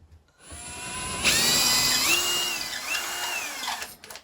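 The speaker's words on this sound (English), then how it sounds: "Let me see if I drill a hole, if it ends up around here," A cordless power drill bores a hole through a stud during bedroom electrical rough-in. The close, loud whine winds up and holds, its pitch dipping and recovering as the bit bites into the wood, then stops abruptly.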